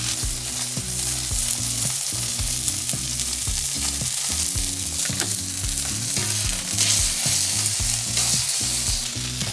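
Steady, loud sizzling and crackling of steaks searing in a hot cast iron pan, continuous throughout with no voices.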